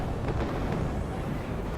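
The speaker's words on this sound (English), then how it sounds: "Very nice explosions there." Rumbling battlefield explosions from the WARNO real-time strategy game fill the stretch with a dense, continuous low roar and a few faint sharper bursts, steady and loud throughout with no talking.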